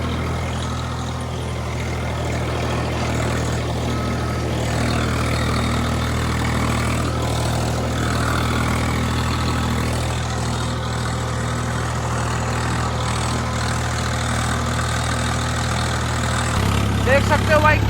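A four-wheel-drive tractor engine idles steadily in a field with a deep, constant low hum close by, shifting pitch slightly near the end.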